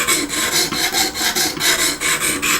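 Rhythmic back-and-forth strokes of a knife blade across an oiled sharpening stone on an Exduct E0931D sharpening system, loud and close, a steady rasping scrape repeating about every quarter second.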